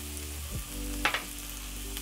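Noodles and vegetables sautéing in a pan give a steady close sizzle, with a few brief scraping stirs and light clinks breaking through midway and at the end.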